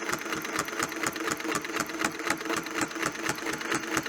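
A sewing machine stitches curves with a Westalee Spin e Fex 16 attachment, its needle chattering in a steady, quick rhythmic pulse, close and alone without talk.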